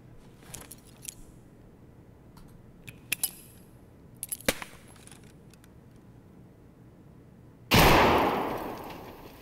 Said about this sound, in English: We'll throw another grenade like that.